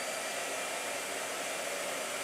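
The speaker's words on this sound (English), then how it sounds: "All right, blow dryer." Blow dryer runs steadily while drying watercolor paint in a travel journal, a continuous airy whoosh with a constant hum, close and fairly quiet, no voices.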